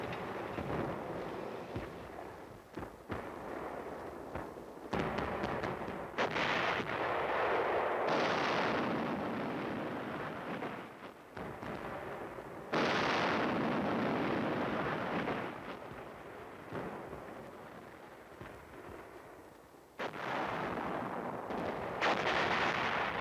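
Korean War artillery barrage, heavy guns firing in a sustained roar of overlapping booms and rumbling blasts, loud and continuous, with sharper bursts starting fresh every few seconds and no voices.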